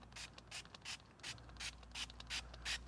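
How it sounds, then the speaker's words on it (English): A pump spray bottle of car interior cleaner fires a series of about eight quick, close atomizing squirts in a steady rhythm, each a short hissy burst with brief pauses between. "See how well that atomizes?"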